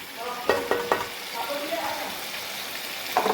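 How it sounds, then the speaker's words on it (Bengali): Meat dry-frying (kosha) in oil in a pan, a steady close sizzle with a few sharp stirring clicks and scrapes near the start and end, and a faint voice underneath. "হয়ে গেছে মাংসটা কষানো"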